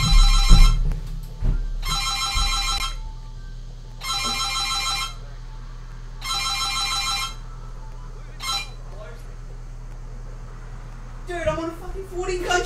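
A telephone rings in bursts of a bright, trilling bell, four evenly spaced rings about two seconds apart followed by a shorter one, with a voice and game noise around them.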